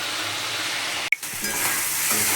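Spices sautéing in a pan for a watermelon rind and prawn curry, a steady close sizzle broken by a sudden clatter and brief dip before the frying hiss returns, slightly stronger.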